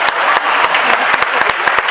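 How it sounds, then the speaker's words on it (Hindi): A crowd claps loudly and steadily at a celebrity stage event honouring a singer's playback career, a close, continuous burst of many hands with sharp individual claps on top. "तालियां."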